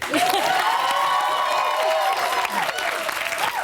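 Studio audience applauding and cheering at a live Big Brother UK 2014 spin-off chat show, a dense, loud wash of clapping with whoops and whistles that carries steadily throughout before easing slightly near the end.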